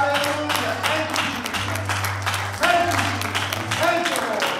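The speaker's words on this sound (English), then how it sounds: "Let's give them a hand clap of praise." Worship congregation clapping hands in praise, a dense steady patter of many hands filling the room alongside a sustained low organ or keyboard tone and voices.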